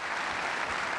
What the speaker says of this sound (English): Police and emergency personnel got a standing ovation as they entered the auditorium